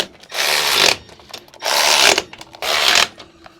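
Power tool tightening bolts during installation of a SCAR winch bumper on a 2019 Ford F250, three loud close whirring bursts, each about a second long, with short pauses between them.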